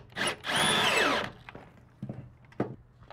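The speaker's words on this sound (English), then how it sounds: "I'm going to drill this into the floorboard and make sure that we have something to sustain this" Impact driver driving a screw into a floorboard in short bursts: a longer loud whir with rattling impacts, then several brief taps and clicks of the tool and wood close by.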